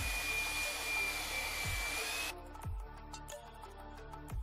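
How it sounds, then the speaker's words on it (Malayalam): A power mixer churns Galtex XPF textile putty for a 3D texture wall finish, a steady loud whirring drone that cuts off partway, leaving quieter scraping and knocks. "ഇതൊരു മെഷീൻ ഉപയോഗിച്ച് ഇതുപോലെ മിക്സ് ചെയ്യുന്നതാവും ഏറ്റവും ഉത്തമം."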